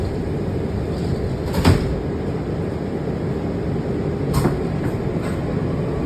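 Steady rumble of a stopped WMATA 7000-series metro train at New Carrollton station with two short bursts of door mechanism noise, the doors sliding shut near the end.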